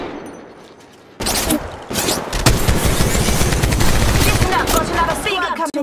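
Rapid automatic gunfire erupts in Apex Legends Mobile after a brief quiet lead-in, loud dense bursts of shots with a few short gaps, sustained to the end.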